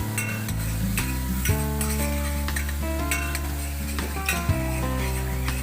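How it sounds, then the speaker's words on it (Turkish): Garlic sizzles steadily in butter in a pan, with a constant dense frying hiss and a few sharp utensil scrapes and clinks, heard up close with no talk. A low musical drone runs beneath. "tereyağı da birazcık sarımsaklarımı kavuruyorum"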